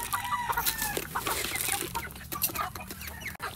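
Hungry chickens clucking close by, a busy overlapping chorus of short clucks and calls from several birds with no talk.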